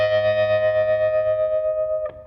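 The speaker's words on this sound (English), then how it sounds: "The tremolo should sound about like this." A single sustained electric guitar chord through a Fender Princeton Reverb amp pulses rapidly in volume with a fast, deep, high-intensity tremolo, ringing alone before being cut off near the end.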